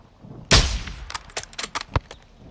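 A loud, close gunshot in Call of Duty Modern Warfare 2, followed by a quick series of sharper, fainter shots and metallic clatter.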